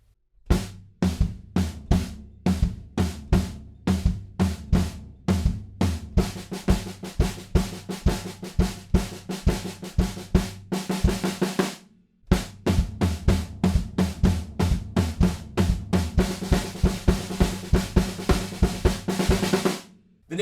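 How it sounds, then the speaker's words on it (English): Floor tom and snare drum pound out a driving riff rhythm in unison on a rock part, steady repeated hits with louder snare accents, close and loud, pausing briefly midway before resuming. "at the end of that chorus, we're going to play the floor tom and snare drum in the same rhythm as the riff"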